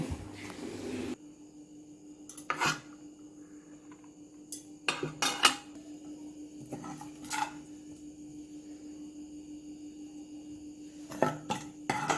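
Ghee rice being served from a pot with a metal spoon in a home kitchen: scattered scrapes and clinks of utensil on metal in a few short bursts, close but moderate, with quiet gaps between and faint background hum.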